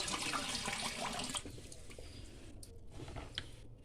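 Water gushes steadily from a pipe straight into a fish pond, a loud continuous splashing flow that eases slightly partway through, with no voices over it.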